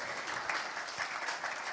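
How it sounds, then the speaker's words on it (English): Quiet, steady clapping from a small audience at a community family meeting, a soft continuous patter of hands heard from a distance with no voices over it. "You can clap."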